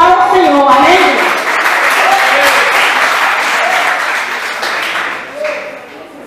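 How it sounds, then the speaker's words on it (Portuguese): A church congregation claps together during a worship service, with loud, dense applause that fills the room and slowly tapers, while voices and short sung or spoken phrases rise over the clapping. "E as palmas para o Senhor, amém?"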